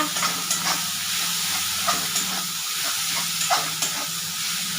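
Spice paste for a katla fish oil jhal fries in hot oil in a wok, giving a continuous close sizzle and hiss broken by soft scraping pulses of stirring.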